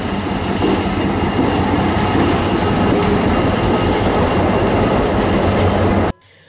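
A train rumbles past for about six seconds in Cameroon, loud and continuous with rattling wheels and clatter filling the sound before it cuts off abruptly.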